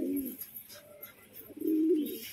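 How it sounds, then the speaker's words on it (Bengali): Pigeons at a bird market coo in two low, throaty bursts, one at the start and a stronger one near the end, with a quieter gap between and no talking. "খুব সুন্দর সুন্দর পায়রা কালেকশন শখ করাচ্ছি"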